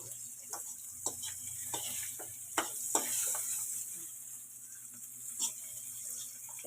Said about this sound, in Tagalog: Ating piprituhin yan guys.